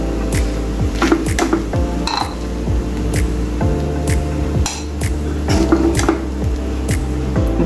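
Sabudana khichdi being stirred in a pan, with repeated metallic clinks and scrapes of a spatula against the pan and a dense, busy clatter throughout.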